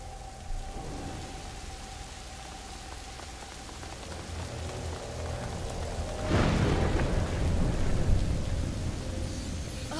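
Rain falls steadily in A Plague Tale: Innocence, a constant hiss under a low rumble, and a loud crack of thunder breaks in partway through, its roll lingering to the end.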